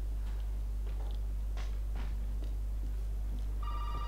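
A telephone in Resident Evil 7 begins ringing near the end, a bright electronic trill over a steady low hum, with faint thumps and movement before it.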